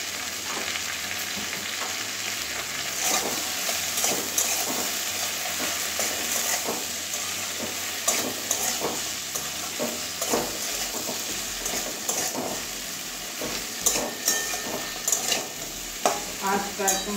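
Okra and potatoes with salt and turmeric sizzle and fry in a pan over medium heat, a steady close crackle broken by repeated scraping stirs of a spatula against the metal pan.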